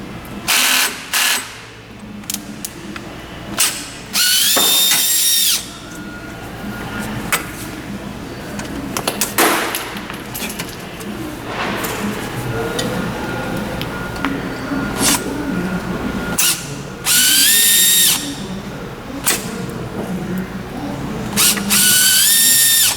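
Power screwdriver removing screws from the frame cross member of a massage chair, with several short bursts of whirring spin separated by pauses and quieter handling sounds.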